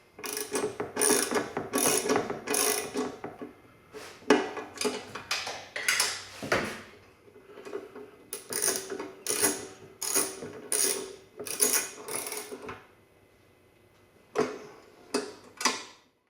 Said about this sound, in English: reinstall the two mounting bolts to hold it to the front frame assembly